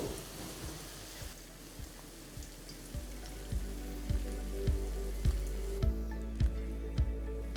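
Soybean pieces fry in hot oil, a constant hissing sizzle broken by regular, sharp little crackles and pops spaced roughly every half second, heard close up with no talking.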